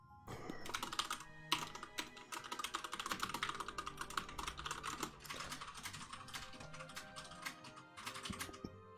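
Fast, continuous typing on a computer keyboard, with dense rapid clatter of keystrokes that runs steadily and fairly close for several seconds and has no talk over it.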